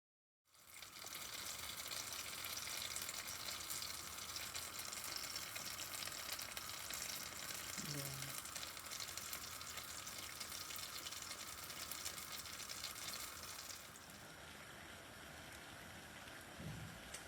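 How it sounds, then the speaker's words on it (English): Steady, soft sizzling and bubbling of butter boiling in a pan to make ghee, a continuous crackle that eases slightly toward the end. "Look at it boiling. I'll turn it up a little bit."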